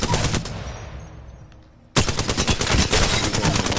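A gun fires in Apex Legends in loud automatic bursts, one burst fading out, a short lull, then another sharp sustained volley of rapid close shots.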